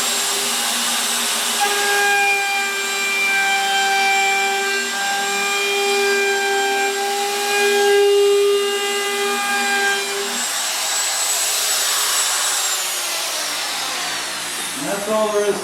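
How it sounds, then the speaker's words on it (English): A router with a 3/16 bit trims the edge of a wooden corn hole board, a loud steady high whine that winds down toward the end, followed by a few light clatters. "I have run the router bit around the edge."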